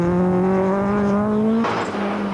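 Toyota Corolla rally car on a mountain rally stage, its engine loud and close with a steady high whine that suddenly shifts tone partway through, as if changing gear or passing.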